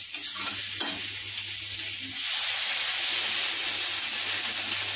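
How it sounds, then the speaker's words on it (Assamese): Water poured into a hot pan of fish head curry, bursting into a loud steady sizzle and hiss after a couple of seconds of stirring clatter. "নিমখ দি এতিয়া পানী দি দিম।"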